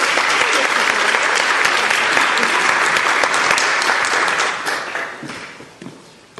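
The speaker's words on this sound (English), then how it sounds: "So let's give Jim a round of applause for coming here and speaking today" An audience applauds a guest speaker at a Five O'Clock Club executive onboarding talk, a dense, steady burst of clapping that tapers off over the last two seconds.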